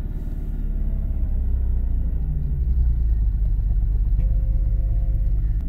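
A salvage Bentley Flying Spur engine runs steadily at idle, a loud, close, continuous low rumble with no voices.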